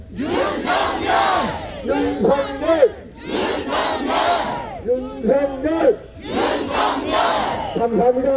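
A crowd at a rally outside Seoul Detention Center chants Yoon Suk-yeol's name in loud, rhythmic unison, three surging bursts of massed voices, each followed by a shorter two-beat shout.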